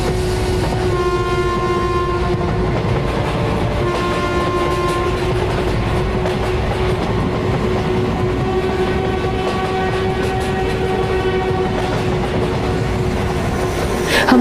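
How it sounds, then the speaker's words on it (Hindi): A train pulling away, with a steady rolling rumble, sustained horn-like tonal lines and faint clattering of the cars, loud and continuous throughout with no talk. "ट्रेन चल पड़ती है।"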